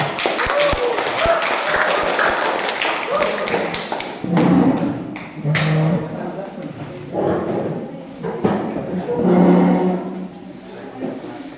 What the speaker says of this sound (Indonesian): Kelompok yang awal kasih tepuk tangan dulu.